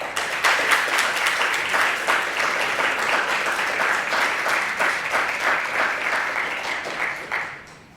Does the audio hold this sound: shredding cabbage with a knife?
no